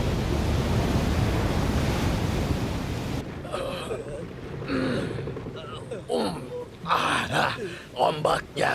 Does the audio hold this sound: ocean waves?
yes